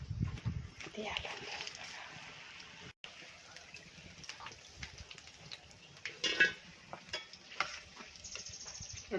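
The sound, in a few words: mirchi bajji frying in oil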